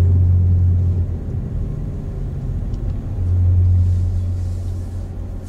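A low, steady rumble from a worn rear wheel bearing on a 2005 Toyota Matrix AWD drones inside the moving car, swelling and fading slightly with speed over a constant road hum.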